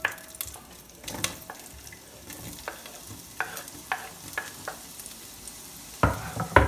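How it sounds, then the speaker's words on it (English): Carrot, onion and garlic stir-frying in heated olive oil in a pan, a soft steady sizzle punctuated by scattered clicks and scrapes of stirring, louder clatter near the end. "I'm gonna stir fry them for 2 to 3 minutes"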